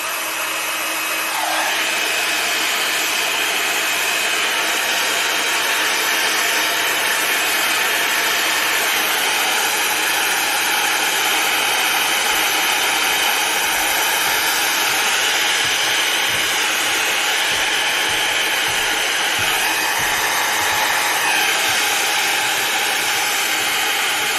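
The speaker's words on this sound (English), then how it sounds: "Hit it with my heat gun." A heat gun blows steadily over purple and black resin geode coasters, a close, continuous airy roar and hiss that holds without a break from start to finish.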